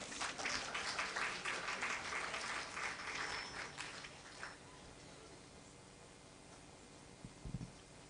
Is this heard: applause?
yes